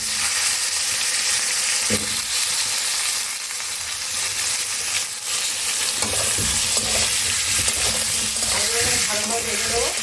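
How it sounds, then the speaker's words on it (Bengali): Potatoes with salt and turmeric frying in hot oil for a mutton curry, a steady loud sizzle broken by scraping stirs and clinks of a utensil against the pan. "তেল গরম হয়ে গেছে, এর মধ্যে আমি আলুগুলো ভেজে নেবো।"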